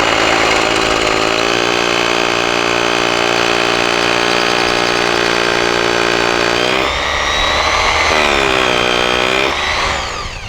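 Power drill fitted with the correct bit cutting through a workpiece, a loud steady whine held for several seconds, then dipping and rising as the cut finishes.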